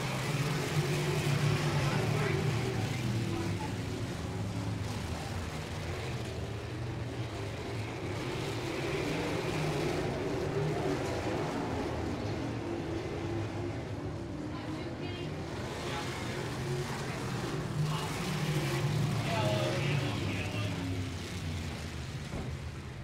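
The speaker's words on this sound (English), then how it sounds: "There, he picks up the throttle." Sprint cars race around Paragon Speedway with a dense, continuous engine roar from a distance, as a commentator talks over the noise.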